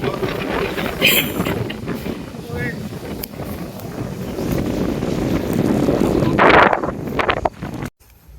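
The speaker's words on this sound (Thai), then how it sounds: "ลมแรงมาก" Strong wind buffeting the microphone outdoors at Khao Yai Thiang, a loud rumbling gusty roar that persists for most of the clip before cutting off near the end.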